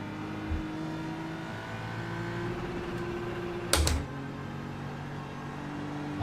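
GT3 race car in the iRacing sim holding a steady engine drone, then a sharp, loud crack of an upshift near the middle before the engine tone settles back; faint clicking sounds also appear.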